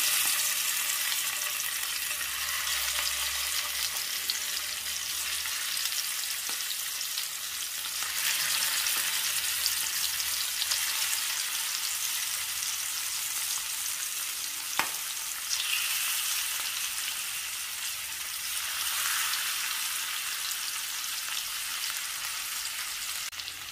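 Marinated sardines and curry leaves fry in hot coconut oil with a loud, continuous hissing sizzle that swells and eases in waves, close by, with a single sharp tap midway and no voices.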